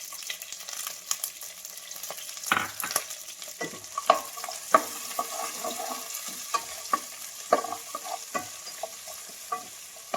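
Shallots sizzle and fry steadily in a hot pan, with scattered sharp crackles and the scrape of stirring throughout.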